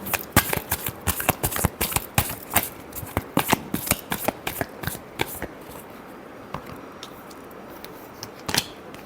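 Tarot cards are shuffled by hand in rapid, crisp riffles and snaps, close and loud at first, then thinning to sparser flicks toward the end.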